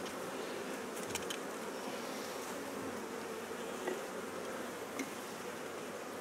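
Honey bees hum inside an open hive during an inspection, a dense, steady buzz that stays close and even from start to finish, with a few faint clicks of frames being handled.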